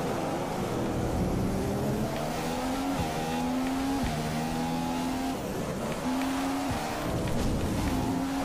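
A Formula 1 race car in the video game F1 2015 drives a rainy race with a steady, loud engine whine that rises through the gears, with sharp shifts and brief drops in pitch as it brakes and accelerates.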